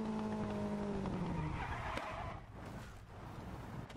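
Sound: car skidding on wet track in the video game WRC 10

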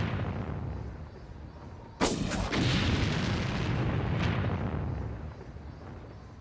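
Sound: mortar fire explosions in video game Far Cry

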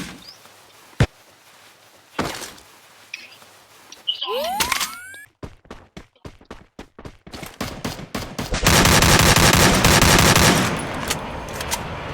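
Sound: gunfire in the video game Free Fire

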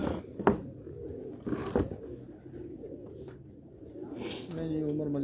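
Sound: Sialkoti pigeons cooing

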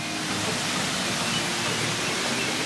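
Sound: waterfall

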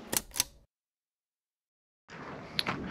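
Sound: Crown Graphic large format camera shutter, one second exposure

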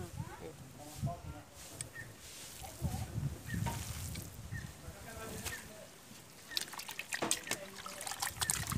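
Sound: water poured and trickling while washing cassava mass for carimã

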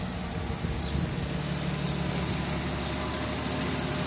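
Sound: Jaguar XJS V12 engine running

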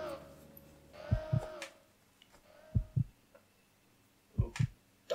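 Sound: heartbeat sound effect in Resident Evil Code: Veronica video game

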